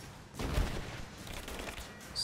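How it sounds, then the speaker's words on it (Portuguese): Gunfire rattles in the video game Rise of the Tomb Raider: a dense, close burst of shots over a few seconds, with no voices over it. "Estou sendo alvejado"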